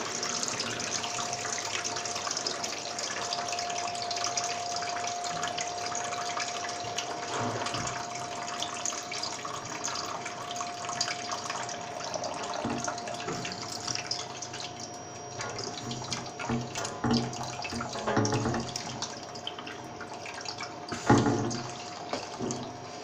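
Water drains steadily from a home radiator through a hose, a continuous rushing, trickling flow with a faint steady hum, and some soft knocks and handling noises near the end.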